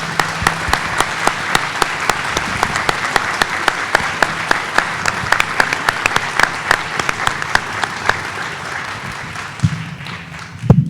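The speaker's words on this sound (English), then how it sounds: "please assist me in giving both of these candidates a round of applause for a job well done this evening" An audience at a 2023 mayoral debate in Barberton applauds both candidates with loud, dense clapping that carries on steadily and tapers near the end.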